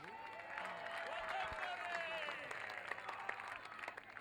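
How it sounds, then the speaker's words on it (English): Spectators at the 2015 Polocrosse World Cup Final between South Africa and Zambia applaud, a fairly faint, distant patter of clapping that runs steadily throughout. "A round of applause for him"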